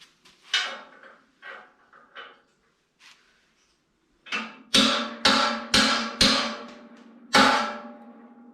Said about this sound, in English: I'm gonna get a hammer and knock that one down a little bit.